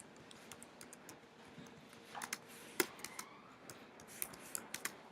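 Typing a search on a computer keyboard: faint, irregular clicks and taps in quick bursts, close and quiet, with no one talking.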